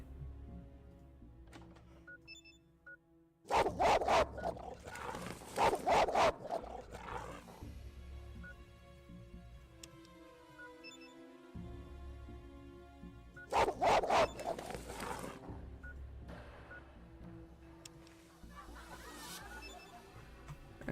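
A dog barks in Fallout 2. The barking comes in two loud bursts of repeated barks over a constant game ambience, and the stretch between the bursts is quieter.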